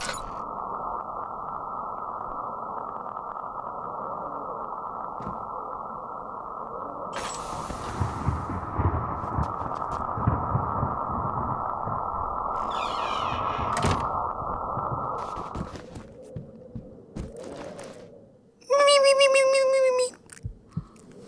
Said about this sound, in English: at least the monster has its own sound effect